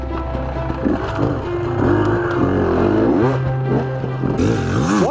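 Enduro motorcycle climbing over a large tractor tyre, its engine revving up and down in short bursts with rising and falling pitch, fairly close and loud throughout the brief pass.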